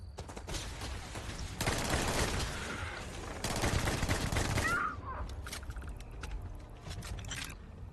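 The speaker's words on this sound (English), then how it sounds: "having a gun that can just mag dump someone with 60 shots" A video game gun fires in rapid sustained bursts, a dense crackling stream of shots that is loud from about 1.5 to 5 seconds and then gives way to lighter scattered clicks and pops.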